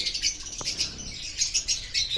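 Small birds kept in raised nest boxes chirp and tweet in quick, repeated bursts, close by and fairly clear over a low background hum, with no voices.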